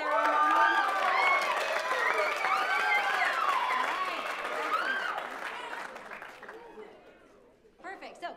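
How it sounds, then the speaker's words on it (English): Students at a convocation give a round of applause for two student assistants. Clapping mixes with cheering and crowd chatter, loud at first, then fading away with scattered voices at the end. "give a round of applause to Sarah and Ronald"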